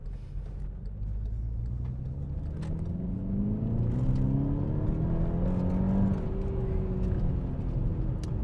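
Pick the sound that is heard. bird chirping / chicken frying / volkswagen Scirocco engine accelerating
volkswagen Scirocco engine accelerating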